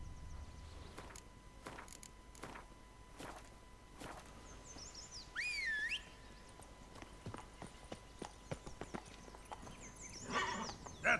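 Geralt's horse Roach in The Witcher 3 video game, hooves clip-clopping at a steady walk on the ground, with a brief whinny partway through and another near the end, quiet and close.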